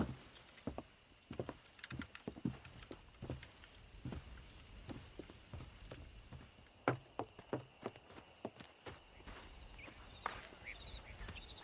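Horse hooves clip-clop at a steady walking pace in Red Dead Redemption on a ranch, with light jingling gear over a soft ambient bed and no talking.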